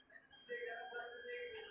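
A multimeter's continuity buzzer sounds while a computer mouse click switch is tested, giving a steady, close electronic tone that starts suddenly and holds to the end, with speech underneath.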